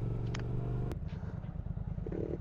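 Triumph Speed Twin 1200 motorcycle exhaust rumbling steadily on a ride, a deep continuous engine note with a sharp click partway through and some wind noise.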